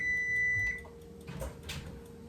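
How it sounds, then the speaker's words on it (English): An electronic kitchen timer rings while Brussels sprouts cook, a steady high tone with harmonics lasting under a second before cutting off, followed by soft kitchen clatter. "the first timer's ringing"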